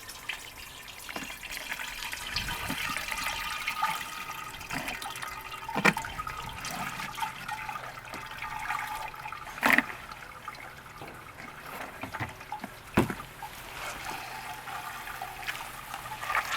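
Water drains steadily out of a bucket in a low, continuous trickle and gurgle lasting the whole stretch, with occasional clicks and knocks over the flow.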